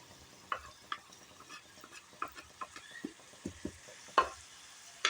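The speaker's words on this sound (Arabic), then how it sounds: "الدجاج هو تقلى هو بصيله." Chicken pieces frying with onion in a pan for a tagine, faint sizzling with scattered stirring scrapes and light pops, close and quiet.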